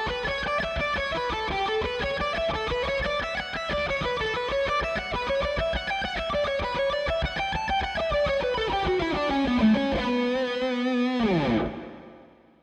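An electric guitar plays a continuous alternate-picked run at a slower tempo through distortion and effects, rapid even notes rising and falling in waves before settling and ringing out to silence at the end.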